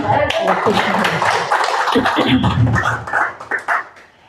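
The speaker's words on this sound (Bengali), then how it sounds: "সবাই একটু হাতে তালি দেন" An audience at a senior citizens' gathering claps hands together in a steady, dense patter lasting a few seconds, mixed with voices and tapering off into scattered claps.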